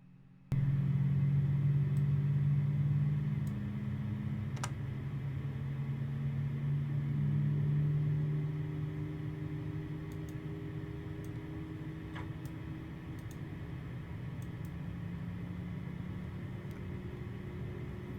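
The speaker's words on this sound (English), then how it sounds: "we've just started engine number 2" Engine number 2 spooling up in Microsoft Flight Simulator 2020, a steady low rumble with rising and falling whining tones that settles into a constant drone, broken by faint periodic ticks.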